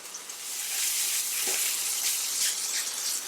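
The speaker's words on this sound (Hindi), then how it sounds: "इस मसाले को भूनने के लिए थोड़ा सा इसमें हम पानी ऐड करेंगे" Spiced masala paste sizzles steadily in a hot pan while being fried for a stuffed arbi (colocasia) leaf dish, a close, continuous hissing fry with faint stirring scrapes and no talking.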